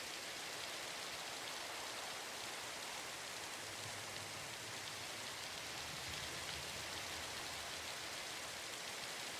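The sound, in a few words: rain in Minecraft video game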